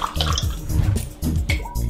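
Cane sugar syrup pours into a cocktail glass as a short, close liquid splash and trickle, with a few breaks in the flow.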